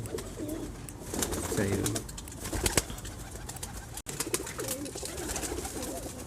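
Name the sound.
high flyer pigeons cooing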